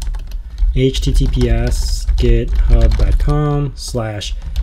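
A computer keyboard clatters with quick bursts of keystrokes as a git clone command is typed for a Raspberry Pi setup, with a person talking over the typing throughout.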